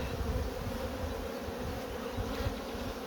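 Honey bees droning in an orphaned hive with few bees, a low, continuous, close buzzing hum that stays steady throughout.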